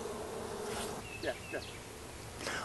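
A few honey bees buzz faintly around hive supers during a honey harvest using a fume pad, with brief close passes rising and falling against a quiet background.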